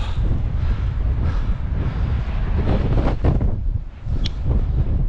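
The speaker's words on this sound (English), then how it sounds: "Up on top, it's windy" Strong wind on a clifftop near Vik, Iceland, buffets the microphone in a constant, heavy rumble, gusting louder and briefly easing near the end.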